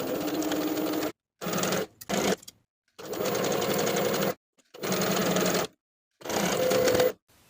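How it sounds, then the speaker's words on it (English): A sewing machine stitches an interfaced collar stand onto a shirt dress neckline in several close, steady whirring runs broken by brief silences. "Sew the interfaced collar stand to the neckline from one finished center front to the other."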